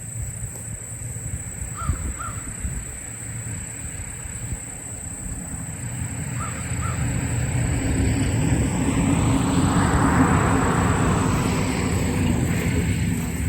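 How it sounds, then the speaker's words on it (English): A vehicle passes on a nearby road beside a homestead forest as a low rumble that swells midway and lingers. Crows caw a few times over quiet outdoor ambience. "So you might hear the occasional vehicle go by."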